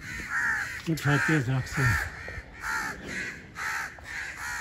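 Several crows caw in repeated bursts, a harsh call every second or so, with a voice speaking over the first part.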